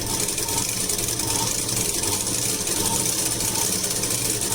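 A sewing machine runs continuously while stitching blouse lining, a loud, dense mechanical rattle that holds steady from start to finish.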